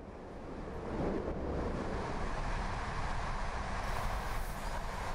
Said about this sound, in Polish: Wy czemu jedzie tu pociąg dziś?